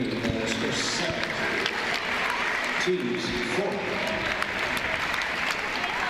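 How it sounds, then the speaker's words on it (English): Crowd at the DeVos arena applauding during an NCAA Division III women's basketball game between Hope and Adrian, a sustained ripple of clapping that lasts the whole stretch, with an announcer speaking over it. "Lee gets a hand from the DeVos crowd"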